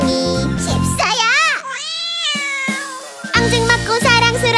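Sung meows from a cat character in a cheerful Korean children's song, voiced imitations of a cat set over bright music with a child's singing, loud and up front, several drawn-out meow-like notes in the middle.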